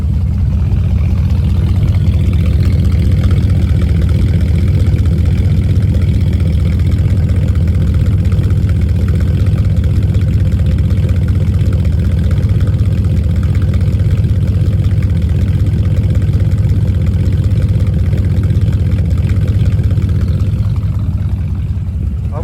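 A 1998 Dax AC Cobra's cold engine idles steadily with a deep, rumbling exhaust note, close and constant throughout, with no talking.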